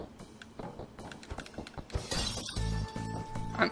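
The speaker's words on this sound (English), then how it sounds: "I was worried I'd have to smash these light bulbs." Light bulbs get smashed in the video game Night in the Woods, giving sharp glass-shattering bursts among lighter clinks and clicks, then a low sustained tone near the end.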